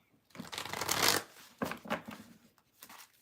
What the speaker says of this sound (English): Lots to shuffle, lots to shuffle.